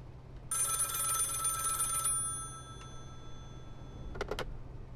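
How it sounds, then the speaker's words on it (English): A telephone rings in the video game Contraband Police, a bright trilling burst lasting about a second and a half, followed later by a couple of short sharp clicks, with no talk. "Oh, phone's ringing."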